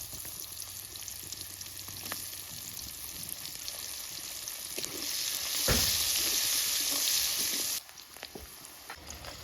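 Chopped onion and bay leaves hit hot oil in a kadai for a potato chicken curry, giving a steady close sizzle that swells midway, then drops sharply near the end.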